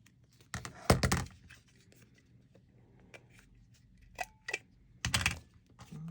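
A handheld corner rounder punch clips the corners of paper cut from vintage book pages, producing several sharp clicks and thunks in small bursts with quiet gaps between them.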